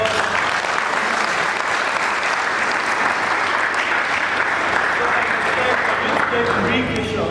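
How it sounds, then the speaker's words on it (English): An audience at a DevFest tech conference applauds after a talk, a dense, steady wash of many hands clapping for about seven seconds at close, even loudness, with a faint voice under it near the end. "A hand of applause."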